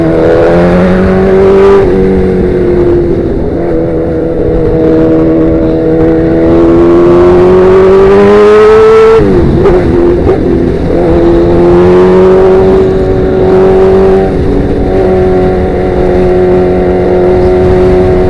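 A sportbike engine revs through a Danmoto XG-1 exhaust, loud and close, its throaty tone climbing and falling through sustained revs with a brief drop in the middle, heard alone.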